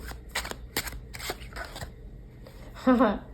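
Tarot cards being shuffled by hand, a series of quick papery riffles and slaps in uneven bursts, close and fairly clear, ending with a brief louder rustle.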